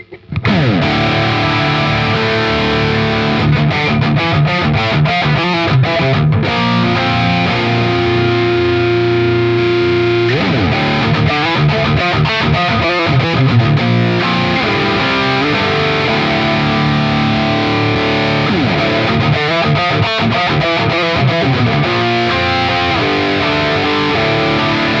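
Electric guitar driven through TS808 and ODR-1 overdrive pedals, playing heavy distorted riffs and sustained chords with a mid-range push, loud and continuous with chugging palm-muted bursts.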